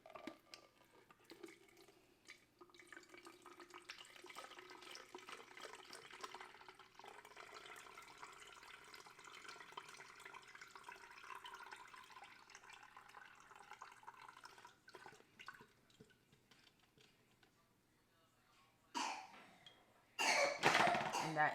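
Breast milk is poured into a Dr. Brown's pitcher as a soft, steady trickle lasting many seconds, heard up close, followed by a few louder knocks and clatters at the end.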